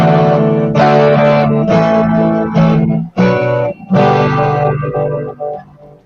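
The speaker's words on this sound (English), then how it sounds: "Just here's the guitar by itself without it." An electric guitar is picked and strummed dry with no reverb, loud close chords that ring out and then stop in short phrases, with no talking.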